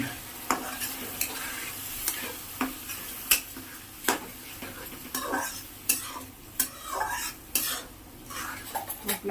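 Meat masala frying in oil in a pan while a spoon stirs and scrapes it, a steady sizzle broken by repeated sharp metallic clinks and knocks against the pan, close and with no talking.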